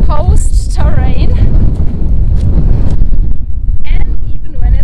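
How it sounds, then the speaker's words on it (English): Gusty wind buffets the microphone on an exposed stretch of the South West Coast Path near Lynmouth, a steady, heavy low rumble that runs through the whole clip while people talk close by. "It's a bit windy now that we are on more exposed terrain"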